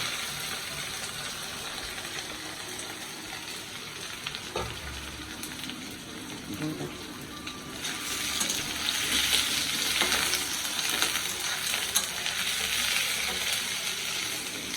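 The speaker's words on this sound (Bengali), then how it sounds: "এই তেলের মধ্যে দিয়ে দিলাম হচ্ছে পনির।" Paneer pieces fry in hot oil with a steady, dense sizzle and crackle that swells slightly partway through, close and continuous with no voices.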